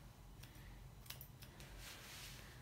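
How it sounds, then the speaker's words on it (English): Scissors snip through a Havanese dog's fur during a grooming trim, giving a few soft, close metallic cuts over a steady background hiss. "point your scissors down. Point your scissors down from the top to the bottom."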